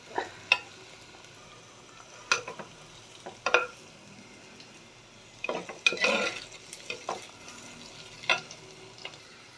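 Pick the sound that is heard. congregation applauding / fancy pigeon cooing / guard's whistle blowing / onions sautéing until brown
onions sautéing until brown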